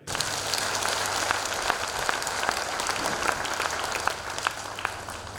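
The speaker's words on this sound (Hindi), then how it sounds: "ताली बजाएं।" Worship congregation clapping hands together, a dense continuous patter of many claps at close range that runs steadily for several seconds.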